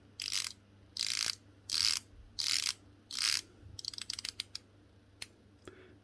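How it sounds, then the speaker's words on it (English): Seiko 5 Sports SRPD-67K1 watch bezel turned in five quick bursts of dense ratcheting clicks, followed by a run of lighter separate clicks and a couple of isolated ticks, close and fairly quiet with no talking. "I'll be quiet and turn the bezel"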